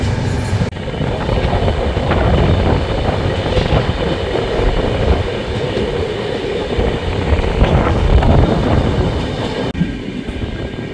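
The 20452 Intercity Express runs out of Delhi, heard from inside a moving coach as a loud, steady rumble of wheels on track with faint rhythmic clacking throughout. Nobody speaks.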